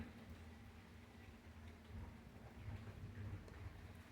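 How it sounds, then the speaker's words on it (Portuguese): Steady rain falls outside a house at night, a continuous soft hiss with low rumbling that swells slightly toward the end, no voices present. "Aqui fora tá chovendo"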